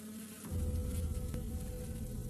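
A swarm of tiny bees fights a much larger paper wasp, a dense, close, continuous buzzing that swells in loudly after a short quieter start.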